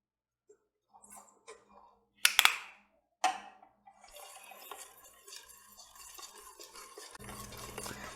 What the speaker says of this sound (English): Now before you mix, add your vanilla extract so mix it with the dough.